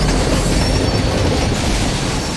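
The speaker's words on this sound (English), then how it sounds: "When the emergency brakes are applied, what happens is you lose your dynamic braking and you've got a runaway train now." A runaway freight train rolling on its tracks after emergency braking killed its dynamic braking, giving a loud, steady rumble with a rattling wheel and rail clatter that carries on unbroken throughout.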